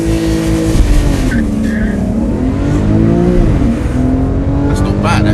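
A Porsche 911 launching under launch control: a steady engine drone holds on the brake, then climbs in pitch as the car pulls away, loud and close, with a voice speaking over it.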